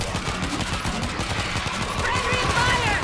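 Rapid automatic gunfire in the zombie shooter World War Z, on a cruise ship level in Tokyo, a dense continuous rattle of shots close up with game voices calling out over it.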